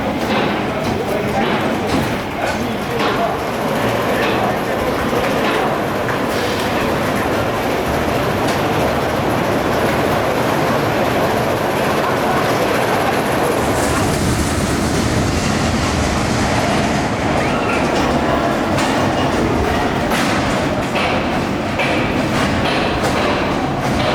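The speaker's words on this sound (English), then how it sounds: "Next up is Bobbahn, which is a Mack Rides bobsleigh roller coaster, which opened here at Heide Park in 1994" Mack Rides Bobbahn bobsleigh roller coaster, opened 1994 at Heide Park, rumbles loudly and continuously along its track with wheel roar and rattling, a steady close rush throughout with shouts and voices mixed in.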